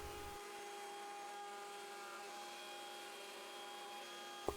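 A CNC router with a 1/4 inch downcut bit runs steadily while cutting hardwood for serving trays, giving a continuous, fairly faint whine with a sharp tick near the end.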